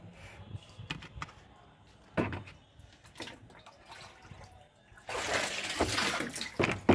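Water splashing and pouring as plants are watered, with scattered drips and clunks early on, then a steady stream of water running for the final couple of seconds.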